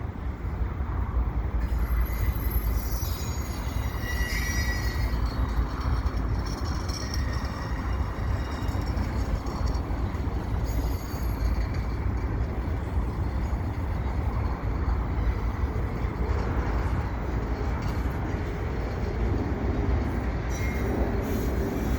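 A Canadian Pacific freight train rolls past below a bridge, a steady heavy rumble of wagons on the rails with occasional wheel squeal, fairly close and unbroken throughout.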